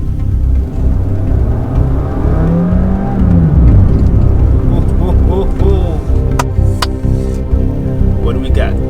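A Honda Jazz 1.5 litre petrol hybrid accelerates from 0 to 30 with a rising whir and engine note that climbs in pitch, under road noise and cabin sounds, with a few clicks near the end.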